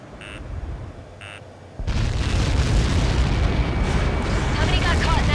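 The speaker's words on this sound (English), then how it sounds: "How many got caught in that explosion?" A large explosion from the combat flight game Ace Combat 7 erupts after a countdown, a sudden roaring blast that swells into a sustained, loud rumble filling the rest of the moment.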